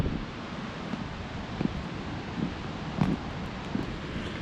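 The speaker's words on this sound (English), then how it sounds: "this is a majestic waterfall that plunges into a gorge" Fall Creek Falls, a 256-foot waterfall plunging into a gorge in a Tennessee state park, gives a steady, distant broadband roar with no voices over it.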